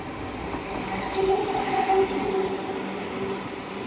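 A streetcar rumbles past on a Nagasaki street shared with cars, a loud steady rolling drone with a faint metallic wheel squeal swelling in the middle, heard alone without speech.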